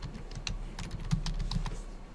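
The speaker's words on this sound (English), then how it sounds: "And I'm typing in administrator," Steady keystrokes on a computer keyboard while entering credentials during Active Directory domain controller setup, a quiet run of fast, irregular clicks with no talk.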